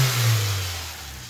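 Honda S2000 AP1 engine fitted with a K&N intake, revving up in one short, loud pull and then easing off, close by with no talk.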